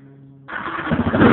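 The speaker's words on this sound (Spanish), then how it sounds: "Se enciende la moto." A motorcycle engine catches and starts after a low starter whir, then settles into a loud, rough, rising idle up close, heard alone.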